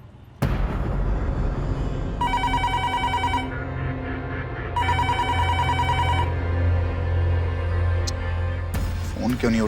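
A telephone rings in two distinct trilling bursts, each lasting over a second, loud and close over a low, steady background drone with no voices.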